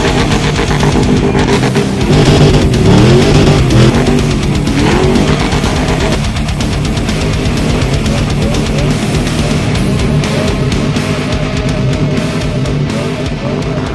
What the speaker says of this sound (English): We'll be there when you burn off a set of tires on this thing.